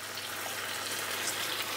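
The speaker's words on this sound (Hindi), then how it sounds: "पानी हम बहुत ज़्यादा नहीं डालेंगे।" Half a cup of water is poured into a pan of potato and parwal masala, a steady, soft hissing splash with faint sizzling that lasts the whole short moment, close and alone.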